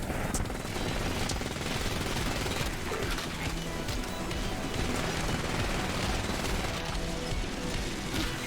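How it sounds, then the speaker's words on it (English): Enemy gunfire in the video game Fracked: a continuous, heavy wall of automatic fire and crackling, loud and unbroken throughout, with no clear gaps between the bursts. "Place is swarming with the Fracked and I'm under fire."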